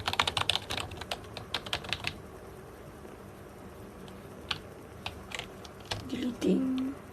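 Noisy typing on a plastic Red Dragon Yaksa keyboard: a quick burst of close, clacky keystrokes, then scattered single taps with pauses, ending in a short muffled rustle.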